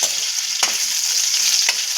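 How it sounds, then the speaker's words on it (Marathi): Potatoes fry in oil left from frying Bombay duck fish, with a loud, continuous sizzle, broken by a couple of brief scraping stirs. "आता याच तेलामध्ये आपण बटाटे पण फ्राय करून घेऊ 2 मिनिटं"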